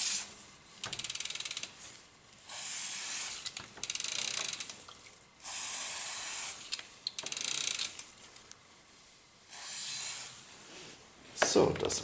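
Aerosol lubricant sprayed onto the chain of a bicycle with a Pinion gearbox and freewheel, heard as several hissing bursts of spray separated by short pauses, close and fairly loud, with a few mechanical clicks near the end.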